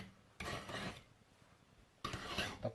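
A kitchen knife is drawn across the coarse unglazed rim on the underside of a ceramic plate, giving two bursts of gritty scraping strokes separated by a short pause, close and fairly quiet.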